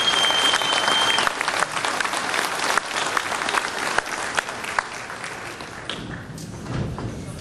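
Loud audience applause fills a sheriffs' panel event, steady dense clapping that thins and fades toward the end.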